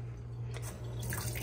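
Tap water running into a kitchen sink over cut upo (bottle gourd) for a simple vegetable dish, a steady dripping, splashing trickle that stays fairly quiet and even for the whole moment with no talk.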